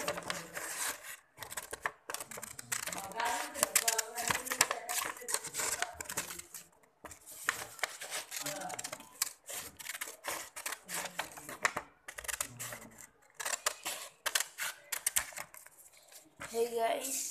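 Scissors snip and rustle through paper while a hand photocopy is cut out, with irregular clusters of crisp cuts and paper handling, and a person talks throughout.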